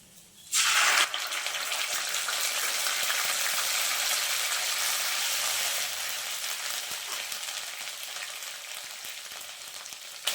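Ground onion, chili and ginger-garlic paste hit hot oil in a fish curry pan with a sudden loud hiss. A steady, spattering sizzle follows close up and eases slightly toward the end, with no talk.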